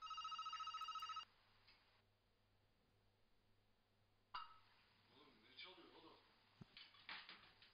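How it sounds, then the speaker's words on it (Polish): A telephone rings at the start with a rapid electronic trill that cuts off after about a second. Quiet shuffling and clatter follow, and voices come in later. "Bu telefon sesi böyle mi çalıyor?"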